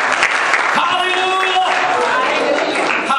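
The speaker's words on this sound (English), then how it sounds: "Come on, clap your hand and give God a praise." A church congregation claps hands in a sustained wash of applause, dense and steady throughout, mixed with voices calling out over it.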